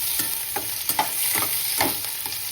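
Green chillies frying in oil inside a pan of tomato chutney, giving a steady close sizzle with soft stirring scrapes every half second or so.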